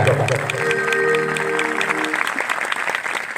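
A crowd at an outdoor prayer festival in Kanikipadar claps in quick, sharp bursts, with sustained voices or tones mixed in over the first two seconds before the clapping carries on alone.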